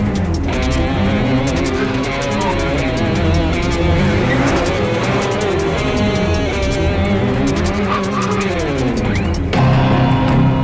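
A car pulls away hard in a dramatic film scene, loud revving engine with shifting pitch, squealing tyres and skidding layered over a busy dramatic soundtrack for around ten seconds.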